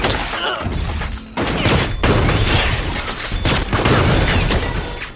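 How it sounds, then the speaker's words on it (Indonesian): Gunfire in a film shootout between police and gangsters, dense sustained volleys of shots with a brief break, loud and close, with no talk. "Carlo dan rekannya langsung menembak Plin dan terjadilah baku tembak"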